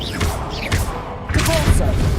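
An Incendio fire spell cast in Hogwarts Legacy gameplay: bursts of whooshing, crackling impact noise with low thuds, loud and close, amid busy game sounds and a voice calling out.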